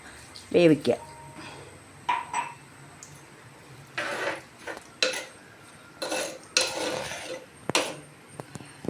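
A curry of raw mango and bitter gourd cooking in coconut milk, stirred in a pot with clattering ladle knocks and scrapes in short bursts, close by, with a voice talking between them.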